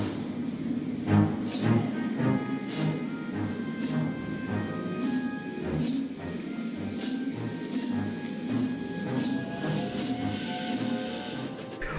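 A steam locomotive chuffs into motion, rhythmic puffs of hissing steam repeating steadily over a low mechanical rumble, fairly distant and even.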